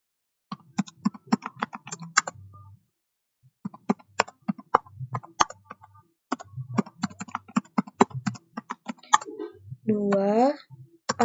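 Typing on a computer keyboard in Microsoft Excel comes in quick, close bursts of sharp key clicks, broken by a couple of pauses. A short vocal sound appears near the end.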